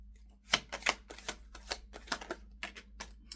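Tarot cards are pulled from a deck close by, making a quick run of crisp snaps and papery flicks at an uneven rhythm.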